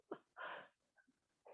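Single sneeze during a yoga class, a sharp intake then a loud breathy burst, followed by faint breathing and a soft voice.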